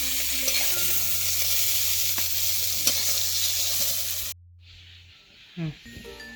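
Ridge gourd frying in a wok before being lifted out, a loud continuous sizzle that cuts off abruptly, followed by quieter clatter and a brief scrape near the end.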